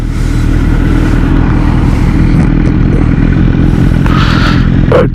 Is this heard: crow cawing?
no